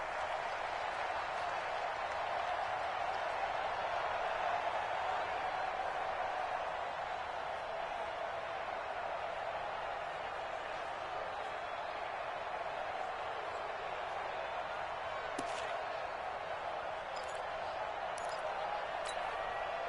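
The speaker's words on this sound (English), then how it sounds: "The crowd getting into it as we come up on a big 3rd down." Stadium crowd in a 2K American football video game, a broad continuous roar of cheering and applause building ahead of a big third down, steady and loud with faint clicks late.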